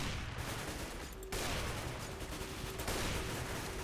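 Gunfire in a CS:GO JailBreak round sounds fairly faint and distant. Dense, crackling bursts run almost continuously, with a few sharper shots cutting through.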